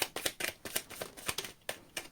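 Quick, crisp riffling bursts of a card deck being shuffled, repeated in a fast rhythm, close and fairly quiet.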